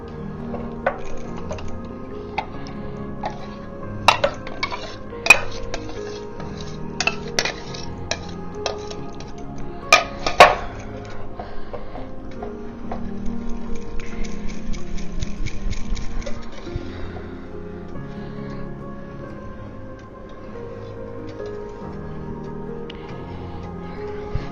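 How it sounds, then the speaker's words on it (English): Whisk clinking against a bowl while yogurt mixture is beaten, quick rhythmic ticking taps with a few louder metallic clinks, then a steadier fast whirring patter before fading. "So I'm going to go ahead and finish my whisking"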